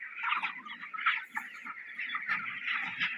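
Chickens on a poultry farm cluck and chatter continuously while feeding on mixed grain feed, a dense flock of close, overlapping bird calls with no talk over them.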